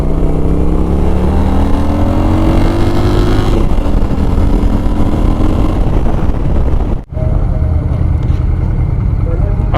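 Honda Shadow motorcycle engine droning steadily while riding, loud and close with rising revs, broken by a sharp dip as if shifting gears, then resuming under wind rush.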